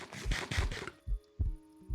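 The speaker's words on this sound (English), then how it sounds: "I hate that heartbeat sound." Heartbeat sound effect in the Minecraft game, low thumping double beats repeating at a steady pace, heard after a burst of louder game noise and standing out clearly on their own.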